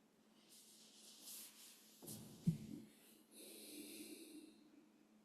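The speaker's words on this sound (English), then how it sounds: "Breathing in through the nose and out through the nose," Slow yoga breathing in and out through the nose, heard as soft, close airy breaths with a faint snort-like rush in the middle, quiet and unhurried with no talk.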